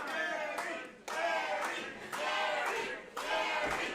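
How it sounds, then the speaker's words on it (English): A wrestling crowd chants in rhythmic bursts with clapping mixed in, a repeating surge of many voices roughly every second, somewhat distant and moderately loud. "And you hear the Kerry chants here."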